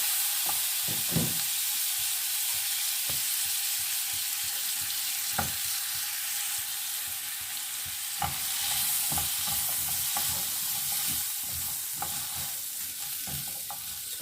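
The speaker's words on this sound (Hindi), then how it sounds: "इसको मैं 1 टीस्पून मक्खन में इसको मैं हल्का सा सौते कर रही हूँ।" A teaspoon of butter sizzles in a pan during a light sauté, with a steady close hiss broken by occasional scrapes and taps of a utensil stirring, and no voices.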